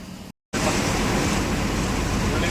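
Heavy rain drums steadily on a lorry cab while driving slowly, a loud dense wash of water and road noise that fills the clip after a brief cut near the start.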